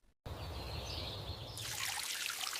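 Garden plants get watered with a steady pour that starts abruptly and later brightens into a fuller splashing spray over the leaves and soil.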